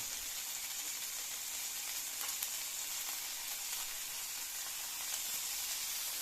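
Cervelas sausage and ham frying in a pan, a soft, even hiss of sizzling fat that holds steady and faint, with only a few small crackles.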